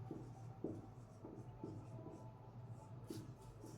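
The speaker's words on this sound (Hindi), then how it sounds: "यहां लिखते हैं" Handwriting during a Hindi lecture on diamonds and total internal reflection: a steady scratch of a pen or chalk, with stroke bursts recurring about every half second, under low room hum.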